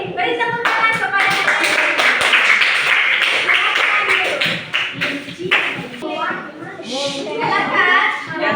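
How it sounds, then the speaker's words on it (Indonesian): Classroom of junior high students clapping together in a school lesson, a dense burst of hand claps mixed with children's voices and talking throughout. "Oke, beri tepuk tangan kepada"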